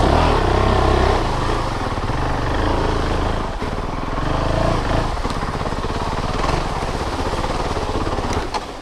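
A Honda CRF450L dirt bike's engine idles close and loud while being ridden, with a steady rough thrum that wavers briefly midway before settling.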